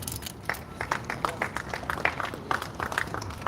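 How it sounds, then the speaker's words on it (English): Applause from the audience at a Canelo vs. Plant boxing press conference in Los Angeles, steady scattered clapping heard from a distance, moderately faint, with no voices over it. "that applause was for Sandy"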